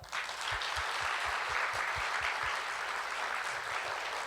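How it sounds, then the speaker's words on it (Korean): A congregation at a Daniel Camp church gathering applauds the teachers, a soft, steady wash of many hands clapping that carries on evenly from start to finish. "우리 유솔자 박수 한번 합시다"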